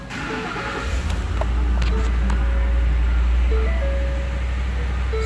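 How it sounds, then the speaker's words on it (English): A 2010 Ford F-150 XLT 4WD pickup engine cranks and starts close by, settling into a loud, steady low idle rumble, with chimes and someone speaking over it. "I'm just gonna get in and start this truck up so we can have a quick listen."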